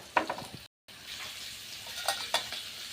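Sliced onions dropped into hot coconut oil in a pan, sizzling close by with a few crackling bursts and a clink of utensils, broken by a brief cut of silence, with no voices.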